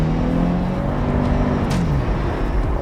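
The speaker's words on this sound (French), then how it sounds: "il y a le retour de la petite voiture" A small car driving on ice in Quebec during drifting, its engine droning steadily and close with slight shifts in revs, no talking over it.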